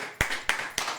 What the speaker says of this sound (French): Applaudis pour moi, chaud.